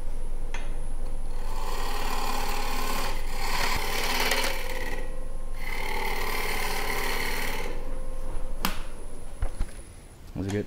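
Wood lathe spinning up to about 1100 rpm while turning a natural edge bowl, a steady whirring drone broken by intermittent scraping bursts from the cutting tool.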